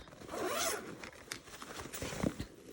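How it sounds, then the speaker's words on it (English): A zipper on a padded laptop bag from a swag box is pulled along its track in a few close, raspy strokes, with rustling handling in between. "looks like we have a little zipper on top"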